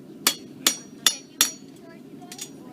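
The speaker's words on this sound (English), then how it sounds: "So I'm using the horn of the anvil to give me my shape." A farrier hammers a horseshoe on the horn of an anvil at a Cub Scout demonstration, four loud ringing blows at an even pace followed by two fainter taps.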